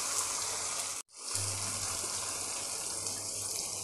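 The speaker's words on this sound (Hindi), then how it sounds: "तो इसमें थोड़ा सा हम पानी डालकर मिक्स करके डाल देते हैं।" Water poured into frying chicken and masala and mixed in, a steady hissing rush that cuts out briefly, then resumes as a constant bubbling sizzle up close.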